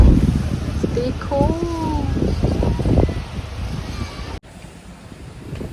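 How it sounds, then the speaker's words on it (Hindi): Wind blows steadily outdoors on a breezy evening, a broad rushing noise buffeting the microphone, with a person talking briefly over it. "कितनी प्यारी हवा चल रही है,"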